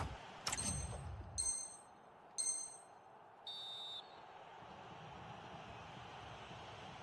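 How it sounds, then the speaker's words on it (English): A referee's whistle in the eFootball video game signals half-time: three short shrill blasts, then a longer steady tone, over a faint stadium crowd ambience. "And there it is, the half-time whistle."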